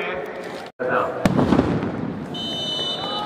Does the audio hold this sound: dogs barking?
no